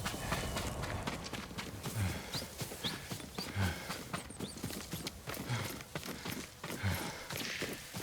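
Yuriko's horse in the video game Ghost of Tsushima clops along with steady, close hoofbeats in a regular rhythm, moderately loud and unbroken across the span.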